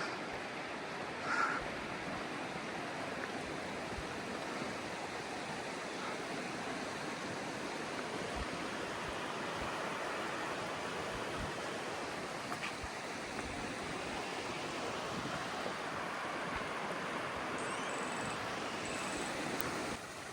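Steady broadband rush of a mountain creek on the Continental Divide Trail near a double log bridge, constant and fairly soft with no voices, one small thump early on.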